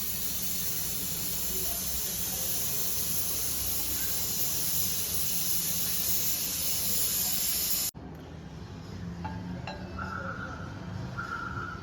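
A pressure cooker cooking soaked chickpeas hisses loudly and steadily as steam vents, then the hiss cuts off abruptly, leaving a quieter kitchen with faint clinks and small sounds.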